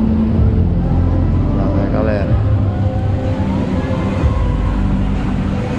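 Refrigeration motors droning inside an indoor snow park in Gramado, a loud steady low rumble and hum filling the cold space, with a person talking over it.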